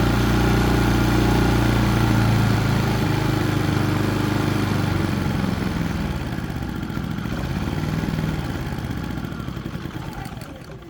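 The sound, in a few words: Predator 3500 generator running, blowing debris out of exhaust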